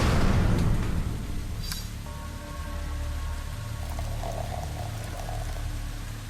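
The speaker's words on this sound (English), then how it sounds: "I can hear water" Water pours and gurgles steadily through a pipe in the video game The Fall, a loud rushing burst at the start easing into a continuous flowing wash with faint tonal hums in the background.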